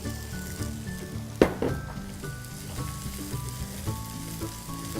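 Air-dried boiled noodles tossed into a hot pan with cauliflower, setting off a sudden loud sizzle followed by a steady crackling fry, with a faint background tone running underneath.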